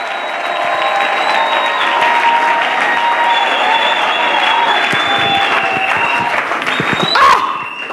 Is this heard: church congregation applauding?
yes